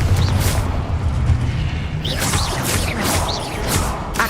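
A Confringo blasting spell goes off in a wizarding video game, with booming, rumbling explosions, whooshing bursts and crashing debris, loud and close, in an unbroken barrage.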